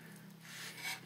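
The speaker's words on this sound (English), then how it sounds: "ripping out chunks of balsa" A gouging tool rips chunks out of balsa wood on a control line trainer model, making a short, close, dry rasping scrape that builds and peaks near the end, with no talk.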